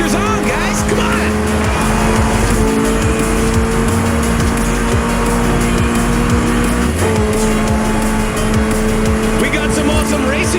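Race cars and hypercars roar continuously through Forza Horizon 4 gameplay, with steady loud engine drone, shifting revs and occasional tire squeal, layered under crowd and game ambience throughout.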